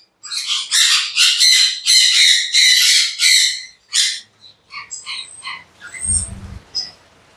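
Pineapple conures, including a blue pair, in a breeder's aviary give loud, harsh repeated squawks close by, tapering into scattered shorter calls and chirps.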